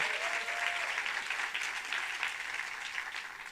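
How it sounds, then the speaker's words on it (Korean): Steady applause fills a church service as the congregation claps for the sound team, a dense continuous patter at moderate loudness with no speech over it. "우리 음향팀에게 박수 한번 할까요?"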